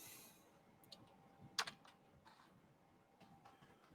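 Faint, sparse typing on a computer keyboard, a few soft scattered key clicks with one slightly sharper tap, quiet and distant with no speech.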